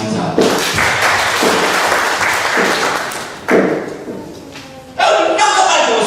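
Church congregation clapping in praise during a sermon at BCC, bursts of dense applause that stop and restart several times, loud and close, with a voice speaking between and over the claps.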